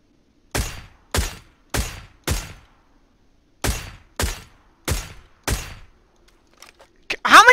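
An SLR rifle fires in PUBG on the snowy Vikendi map: eight loud, close single shots in two evenly paced bursts of four, separated by a short pause, then a brief muffled noise at the end.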